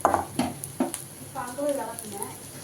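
Potato vadai sizzling in a hot pan of oil while being flipped, with a steady fry hiss broken by a few scraping stirs and utensil clinks at close range, and a voice murmuring in the background.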